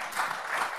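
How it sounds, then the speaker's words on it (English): Applause from an audience at a high-level roundtable on digital currencies, a brief burst of steady clapping from many hands. "Can we get a round of applause,"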